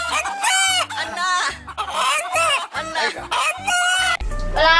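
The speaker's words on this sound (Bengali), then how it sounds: "আপনি কি জানতেন যে মুরগিও মানুষের মতো কথা বলতে পারে?" A chicken clucking up close and loud, a rapid series of strained, tonal squawking calls in uneven bursts, followed by a brief low rumble at the end.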